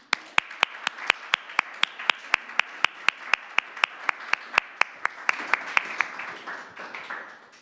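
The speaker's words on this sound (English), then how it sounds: "Please help me to welcome Daniela with a warm applause." Audience applause welcoming a speaker at an academic lecture event, a steady run of crisp individual claps at a quick even pace, fairly close and moderately loud, with no voices over it.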